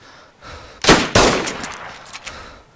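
Gunfire in the video game DayZ: two sharp, loud reports close together, each trailing off into a rattling decay.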